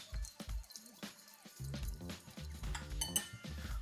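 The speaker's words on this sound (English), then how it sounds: "you slowly add the olive brine and you whisk it to minimize the lump" Whisk working olive brine into a Dijon dressing in a bowl: irregular clinks and scrapes of metal against the dish, with wet dripping sounds, fairly close and without voices.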